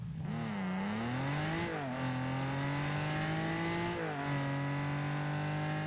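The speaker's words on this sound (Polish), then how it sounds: "no i dźwięk silnika." Nissan Z performance car engine in the video game Rocket League, a loud, steady synthetic engine drone that revs up and shifts pitch twice, filling the whole stretch without talk.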